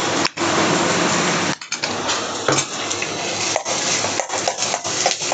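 Sliced onions with ginger garlic paste frying in a pan for a tawa paneer burger, a loud, close crackling sizzle broken by scraping spatula strokes and clinks against the pan.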